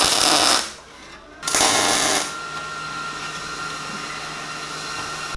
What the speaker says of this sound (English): And I'm gonna start tacking.